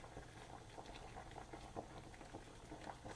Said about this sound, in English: You can see the tofu boiling in the pan right now.